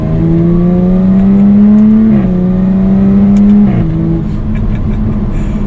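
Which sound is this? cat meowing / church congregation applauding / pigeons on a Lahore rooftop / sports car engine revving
sports car engine revving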